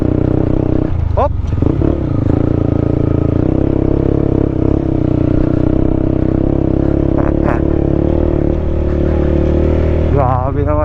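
A Honda CB150X motorcycle rides a mountain trail, its engine droning steadily throughout with brief clatter, while people talk over it.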